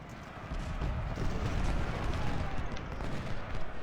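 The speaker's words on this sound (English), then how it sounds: "These guys are just getting battered by artillery" Artillery fire in a Fredericksburg Civil War battle video game, a dense rumbling barrage of booms and crackling shots with muffled impacts, continuous and fairly loud.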